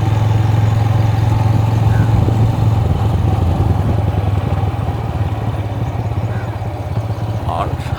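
A motorcycle riding along a village road in rural Punjab, its engine a steady low rumble close by with road clatter and wind, while a person talks over the ride.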